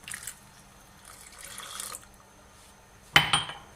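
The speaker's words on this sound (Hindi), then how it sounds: "बिल्कुल इसमें ठंडा पानी हमने डाला है।" Ice-cold water poured into Kashmiri pink tea: soft trickling and splashing at first, then a short quiet gap, then a sudden louder splash and pour near the end. No talking.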